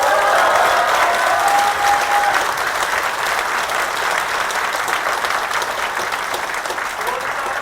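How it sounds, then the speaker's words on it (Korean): Sustained applause from a large crowd at a town meeting in Seongju, South Korea, loud at first and gradually easing, with a brief whistle-like tone early on. "의원들한테 박수 한번 보내주세요."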